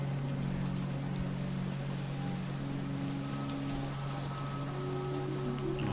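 Heavy rain pours down at a graveside, a constant dense hiss of drops beating on surfaces, steady and loud throughout, with a low sustained hum running underneath.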